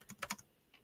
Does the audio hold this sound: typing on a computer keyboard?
yes